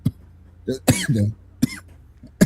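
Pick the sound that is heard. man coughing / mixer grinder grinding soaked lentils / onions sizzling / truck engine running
man coughing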